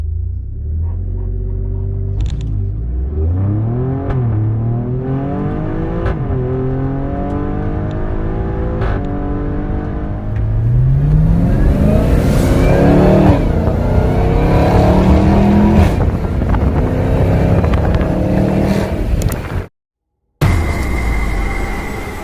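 An Alfa Romeo Stelvio Quadrifoglio all-wheel-drive SUV launches hard in race mode, its engine roaring close and loud through rising gear pulls, with rapid upshifts and a sustained aggressive rumble that cuts out abruptly near the end.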